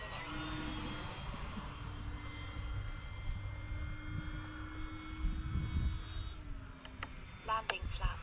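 An E-Flite FW 190A radio-controlled model warplane drones at about half throttle with a steady electric whine, its pitch dropping slightly near the end, under low wind rumble with a few brief clicks.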